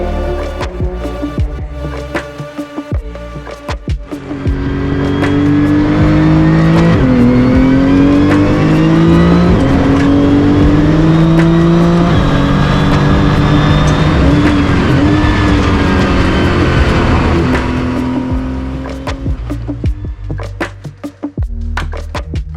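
Porsche GT2 Clubsport 25 race car driving on a private track, its engine building to a loud, sustained roar with rising and falling revs that hold for most of the stretch before easing off.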